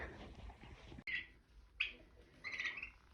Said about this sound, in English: So this is our first little turkey going out to the coop.